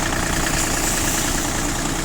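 A Kubota ZL1 205 tractor's diesel engine runs steadily and loudly up close, a smooth even drone with a constant mechanical vibration and no change in pace.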